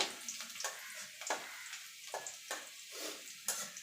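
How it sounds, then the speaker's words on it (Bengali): Four or five cloves of garlic sizzle lightly in a pan of oil, a quiet crackle broken by soft scrapes and stirs at roughly half-second intervals. "এবার রসুনটা হালকা করে একটুখানি ভেজে নেব"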